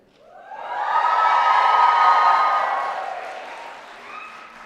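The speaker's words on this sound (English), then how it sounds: "can you be the loudest crowd of the week?" At a university graduation ceremony, a large crowd swells into loud cheering and applause, holding for a couple of seconds before fading away.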